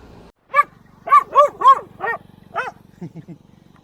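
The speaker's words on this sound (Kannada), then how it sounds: "ನಾಯಿ" A dog barks several times in a quick irregular series, close and loud, near Basavana Bagewadi in Bijapur District, with a low steady engine hum running underneath.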